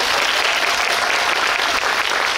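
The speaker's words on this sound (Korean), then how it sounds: "감정씬을 보여주신 두 분께 또 박수 부탁드릴게요" At a film screening talk event, a large audience gives two actors a loud, dense, continuous burst of applause, a thick, unbroken roar of clapping at full strength throughout.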